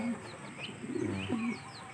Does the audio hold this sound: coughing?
no